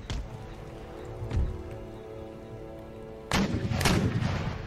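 Mortar shells launched in the Empire: Total War battle game, heard as a few sharp, booming artillery reports, one early, one around the middle and a heavier cluster near the end, over a steady low game background.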